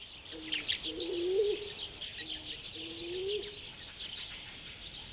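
Madagascar turtle doves (Nesoenas picturatus) cooing at a pond's edge: two low, drawn-out coos sounding at a moderate distance, with scattered high bird chirps and tweets throughout.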